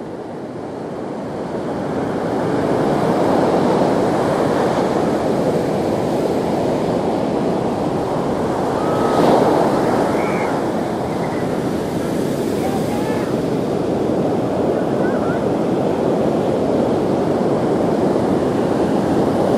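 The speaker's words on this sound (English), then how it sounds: "You see how crazy and big those waves are out there?" Large, white-capped ocean waves break continuously on Agate Beach in strong wind, a loud, steady roar of surf mixed with gusty wind buffeting the microphone for the whole stretch.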